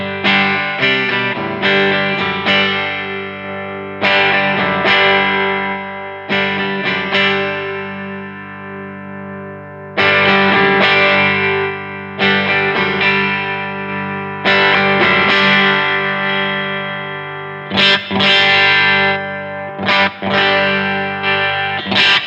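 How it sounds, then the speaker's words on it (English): Electric guitar through a vintage analog effects pedal with a heavy mid-range EQ boost, playing distorted chords and riffs in bursts with pauses, loud and close throughout with no talking. "Now I'm using quite a mid-heavy boost there."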